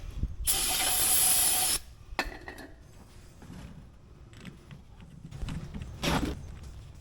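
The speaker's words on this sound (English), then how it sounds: "I gotta spray it down with brake clean" Brake cleaner sprayed onto a CAT skid steer part during land clearing in Florida: one loud, steady aerosol hiss lasting over a second, then scattered clanks and handling noises, with a second short spray burst near the end.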